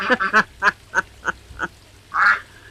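A duck quacks in a quick series of about eight nasal calls, close and clear, the first few bunched together, then spaced out, ending with one longer, drawn-out quack.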